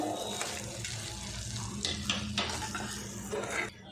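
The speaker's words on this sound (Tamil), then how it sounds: "நெய்யில் வறுத்து வச்சுருக்கிற முந்திரி தசை இதில் சேர்த்துக்கலாம் சேர்த்துட்டு இது நல்லா கலந்துக்கோங்க" A spoon stirs rava kesari in a pan after ghee-roasted cashews go in. Steady soft scraping and gentle sizzling continue throughout at close range.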